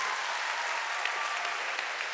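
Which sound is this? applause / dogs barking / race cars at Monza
applause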